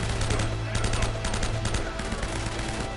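Enemy gunfire in Uncharted: The Nathan Drake Collection during a final boss fight, loud dense bursts of automatic and rapid shots rattling continuously without pause.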